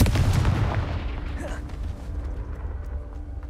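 A Confringo explosive spell in Hogwarts Legacy detonates with a loud, rumbling blast right at the start, then decays into a lingering low rumble and softer game ambience.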